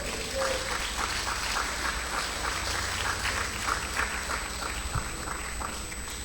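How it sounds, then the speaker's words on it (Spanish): Applause from a church congregation, a dense steady patter of many clapping hands filling the room at even loudness throughout. "¿Cuánto le dan aplauso a Cristo?"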